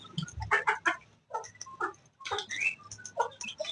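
Two hens fighting on a farm, squawking and clucking in rapid, agitated bursts close by, with short pauses between flurries of loud cackling.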